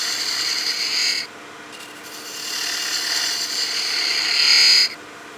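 A spindle gouge cuts spinning wood on a lathe, giving a continuous hissing, rasping scrape that breaks off briefly and then resumes, growing louder before stopping.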